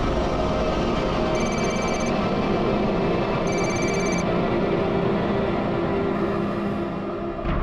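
A telephone bell rings in repeated bursts over a steady background hum, three rings spaced a couple of seconds apart.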